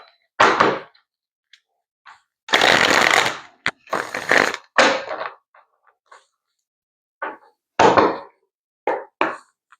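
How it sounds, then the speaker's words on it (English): Tarot cards being shuffled by hand, giving bursts of crisp riffling and slapping in short irregular clusters separated by silence, close and fairly loud, with no talking. "Let's get one more shuffle"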